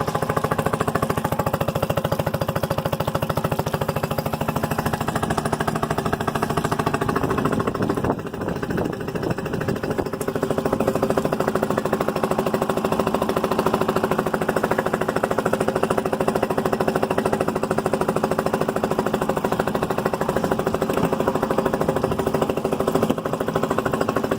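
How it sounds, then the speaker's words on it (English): A 2013 Honda outboard motor runs on a 1978 Boston Whaler of 13 to 14 feet, giving a steady, close engine drone that holds the same level for the whole stretch apart from a brief dip partway through. "Man, this is probably the quietest motor I've ever worked on."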